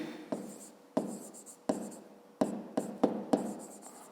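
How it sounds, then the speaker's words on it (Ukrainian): Pen writing on paper during a school math lesson: a series of short scratchy strokes, each starting with a sharp tap and fading quickly, close and fairly quiet, with no speech. "Записуємо."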